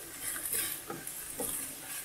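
Chicken mince being stirred and mixed with salt, garlic and spices in a kitchen, giving soft repeated scraping and squelching strokes with light utensil contact, close and alone without talk.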